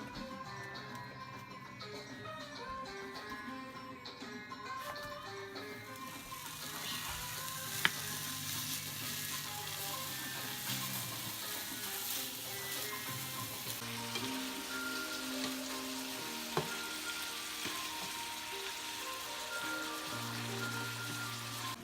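Meat browning in a pan for a Taco Time style crispy burrito, a steady close sizzle and crackle with occasional stirring knocks, quiet background hum, no talking.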